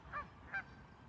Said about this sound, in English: You got beat up by a goose.